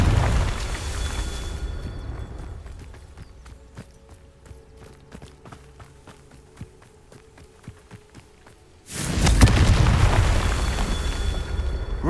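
In Hogwarts Legacy, a Confringo fire spell lands with a sudden loud, deep blast that cuts off a spell of quieter rhythmic ticking and footsteps, then settles into a sustained roaring rumble.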